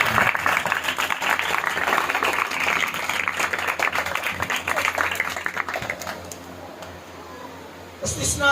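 A church congregation claps loudly during a sermon. The dense applause lasts about six seconds, then fades out as a voice speaks over it.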